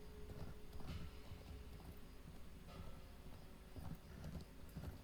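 Horse hooves clip-clop at a walking pace in a fantasy role-playing video game, a soft, fairly quiet rhythmic patter of steps over low ambient game sound.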